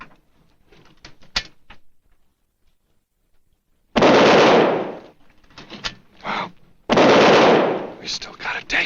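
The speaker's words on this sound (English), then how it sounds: "They're going to test the gun." A gun is test-fired in a sitcom scene: two long, loud blasts roar a few seconds apart, with scattered clicks and brief speech in between.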